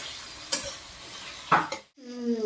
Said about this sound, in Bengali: পেঁয়াজ কুচি অল্প দিয়া ভালো করে লাল হইতে দিব